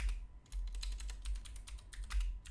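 A computer keyboard is typed on in quick, uneven bursts, producing close, light key clicks with a short pause near the start and a dense flurry toward the end, heard alone without speech.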